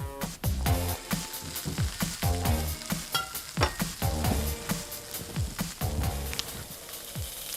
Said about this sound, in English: And this will sizzle and spit a bit.